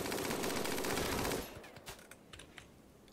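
RimWorld gunfire: a dense, loud rattle of rapid automatic shots that cuts off partway, giving way to a few scattered, fainter single shots.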